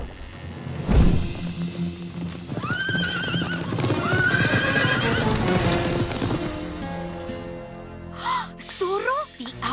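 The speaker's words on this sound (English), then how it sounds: "Sergeant, saddle the horses immediately! All troops to your mounts!" Cavalry horses gallop with steady clip-clop hoofbeats while several horses neigh and whinny loudly near the end, set in an animated Zorro film scene with shouted voices and a busy soundtrack.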